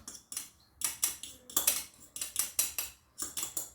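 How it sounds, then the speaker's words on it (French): A spoon clinks and scrapes rhythmically in a bowl while mixing a filling of mashed potato, tuna, cheese and coriander, a dozen quick close strokes with no voices. "Et je mélange tout comme ça."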